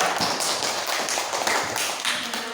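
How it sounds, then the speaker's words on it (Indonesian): A class in a teacher training session claps together, a dense, close burst of many hands patting continuously for a couple of seconds, no voices over it. "berikan aplaus untuk kita semua"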